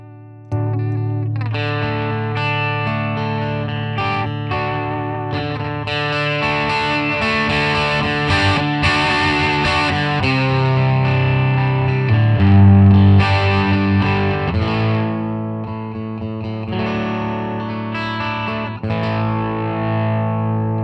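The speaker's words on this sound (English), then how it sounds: "I will play my bypass sound and I'll kick on the Hot Tubes side." Electric guitar played through an Electro-Harmonix Hot Wax dual overdrive pedal, first clean in bypass and then on the Hot Tubes side: loud, sustained distorted chords and riffs with a full low end, continuous for about twenty seconds, no talking.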